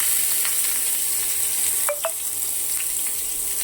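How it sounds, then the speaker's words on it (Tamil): Mustard seeds and curry leaves sizzle and crackle in hot oil in a pan, a steady bright frying hiss with a couple of small pops, heard close and alone. "போட்டதுக்கப்புறம் அது லைட்டாக பொரிஞ்சு வந்ததுக்கப்புறம் வெங்காயத்தை போடணும்"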